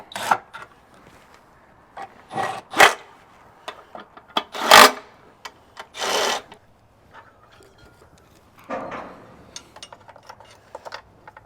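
Clamps are snugged down on a Peterbilt pull truck, heard as scattered close ratcheting, rasping and scraping bursts of metal work separated by short pauses.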